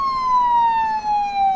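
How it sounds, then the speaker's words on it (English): Emergency truck siren in the video game Stormworks, a loud steady electronic wail gliding slowly downward in pitch with bright harmonics, continuous and close, with no talking. "Switch the siren off."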